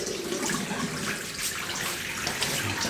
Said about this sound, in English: so I'll wet the mug